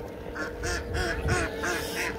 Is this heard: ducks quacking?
yes